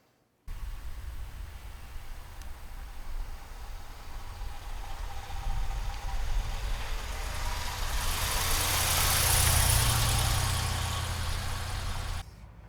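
A 1975 Lincoln Continental's engine runs steadily with a low rumble and broadband road hiss, swelling slightly louder toward the end, with no talking.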